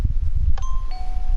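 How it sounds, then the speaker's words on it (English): A two-note Minecraft redstone doorbell chime in the video game, a higher ding followed by a lower tone, ringing over a low background rumble. "There you go, doorbell."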